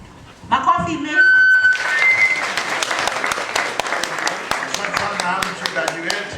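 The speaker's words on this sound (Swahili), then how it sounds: "Makofi mengi." A crowd at a public gathering with a member of parliament breaks into sustained clapping that swells quickly and stays dense, while a voice speaks over the start of it.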